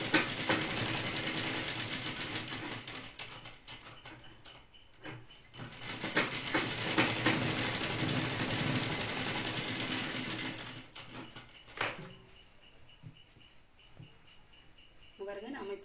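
A sewing machine stitches a chudidar top in rapid mechanical bursts with pauses between runs, fairly close, and someone speaks now and then.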